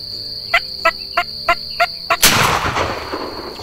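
Wild turkey gobbles repeatedly during a turkey hunt in Hawaii, six sharp rattling calls in steady rhythm at moderate distance, then a loud gunshot blast cuts in and echoes away.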